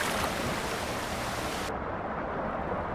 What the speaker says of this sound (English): so there's the waterfall